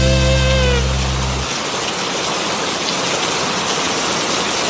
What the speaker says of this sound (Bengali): বৃষ্টির স্পিডটা কিন্তু আবার বাড়ছে।